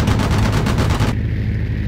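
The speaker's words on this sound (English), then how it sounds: "Oh, I love these cannons." Aircraft cannons fire in the Aces High II flight-combat game: a dense, loud rapid burst of booming shots that stops abruptly partway through, leaving a steady engine drone.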